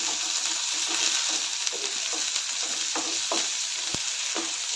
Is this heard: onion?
yes